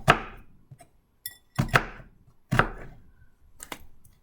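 A knife chops through an onion on a cutting board, with four or five sharp, separate cuts at an uneven rhythm, close and fairly loud, with no talking.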